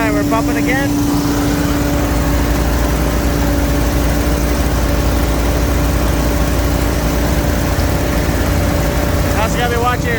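A Honda transfer pump runs steadily while filling a sprayer, a loud, constant engine drone with a low hum that holds for the whole stretch, and a person talks over it.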